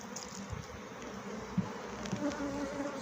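Honey bees of a weak colony buzzing during a hive inspection, a close, continuous droning hum with a few louder individual buzzes passing by and no voices.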